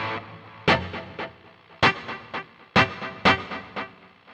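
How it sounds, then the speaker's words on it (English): Electric guitar notes played through a Boss GT-1000 with dotted eighth and dotted quarter note delay, sharp plucked attacks followed by softer repeating echoes trailing after each one, fairly quiet and alone. "Now what I want to do with this delay is to give it that sort of dotted eighth note,"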